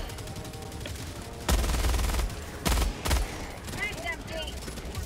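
Heavy automatic gunfire in Helldivers 2 as an enemy is shot down, with loud bursts of shooting around 1.5–2.2 s and again near 2.7 and 3.1 s, over a dense game battle soundscape.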